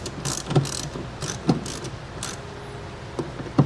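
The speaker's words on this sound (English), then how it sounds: "And then we'll snug those down with our 3/8 socket." A ratchet fitted with a 3/8 socket snugs down nuts during a Redarc Tow-Pro Liberty brake controller install on a 2020 Ford Explorer, giving a few sharp, close clicks spaced irregularly over a faint background.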